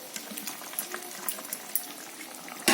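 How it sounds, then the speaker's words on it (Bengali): A hilsa fish and eggplant curry bubbling in a pot, with fried hilsa and fried eggplant simmering in mustard gravy; soft, steady popping and crackling bubbles run throughout, ending in a brief louder burst. "বন্ধুরা যখন ঝোলটা টকবক করে ফুটছে"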